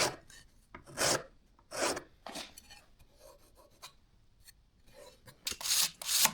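A fiberglass strip for a custom longbow limb is hand-sanded rough for glue adhesion, with irregular bursts of coarse, close scraping strokes separated by short pauses and no speech.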